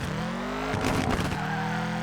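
Nissan S14 drifting in the OverDrift Festival video game: a steady engine drone at high revs, then a burst of tyre squeal and engine noise near the middle before the drone settles back, with no talking.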